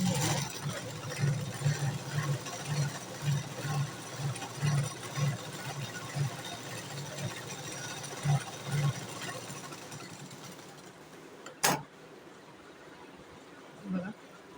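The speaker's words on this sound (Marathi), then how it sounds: "कमरेच्या साईडला अजून एक अर्धा इंच होते ते शिलाई मारून घेतलं." A sewing machine stitching a boat neck blouse runs in a soft, regular rhythmic whir of repeated pulses, fairly quiet and close, stopping near the end.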